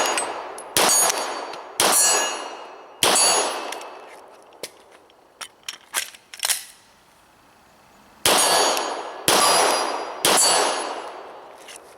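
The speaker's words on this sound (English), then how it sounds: "25 yards, we got our steel plate." Pistol rounds from a Glock 17 Gen 4 strike a steel plate 25 yards out, each shot a sharp report followed by a ringing metallic clang that decays over about a second, with spaced single hits, a few quick lighter clicks, then more evenly spaced impacts.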